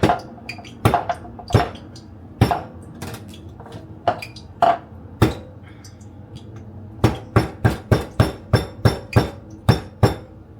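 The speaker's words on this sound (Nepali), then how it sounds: "मैले चाहिँ यहाँ अलिकति आवाज आयो होला, त्यो जाइफल चाहिँ कुटिरहेको छु होइन" Nutmeg is pounded by hand in a kitchen during curry cooking, giving sharp hard knocks that come irregularly at first and then in a quick steady run near the end.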